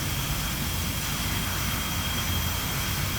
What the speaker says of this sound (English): Here's, by the way, the engine sounds from the external view.